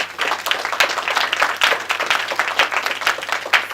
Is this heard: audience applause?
yes